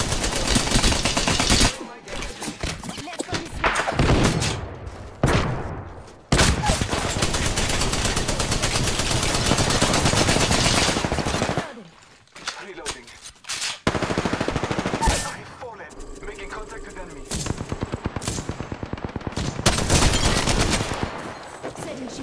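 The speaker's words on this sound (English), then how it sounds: "I am taking fire, friends." Gunfire in Apex Legends comes as dense, loud bursts of rapid automatic fire, with brief pauses between long sustained volleys and scattered single shots.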